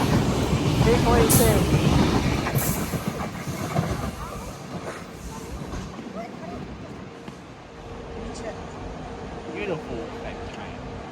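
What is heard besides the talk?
train moving at Flemington station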